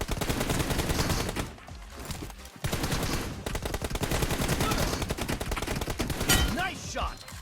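Rapid bursts of gunfire from the PUBG Mobile battle royale game crackle almost continuously, loud and close, with a brief lull partway through before the shooting resumes.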